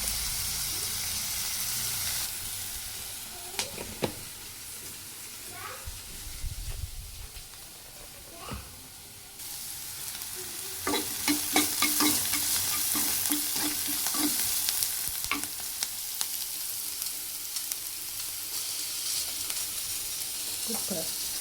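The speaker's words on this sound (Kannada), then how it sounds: "ಸಾಸಿವೆ ಜೀರಿಗೆ ಸ್ವಲ್ಪ ಈರುಳ್ಳಿ ಹಾಕಿ ಫ್ರೈ ಮಾಡ್ತಾ ಇದ್ದೀನಿ" Mustard seeds, cumin and onion fry in a pan for a simple toor dal sambar, a continuous sizzling hiss with scattered crackles and occasional spatula scrapes, louder and busier in the second half.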